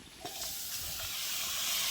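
Meat hits hot fried spice masala in an outdoor village cooking pot and a loud steady sizzle rises at once, a bright continuous hiss that holds for the full two seconds.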